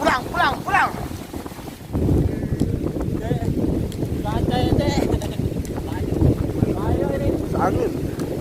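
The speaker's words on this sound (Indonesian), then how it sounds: "Angin." Gusty wind buffets the microphone at a beach on the coast, a steady low rumble with some surf, while people talk over it throughout.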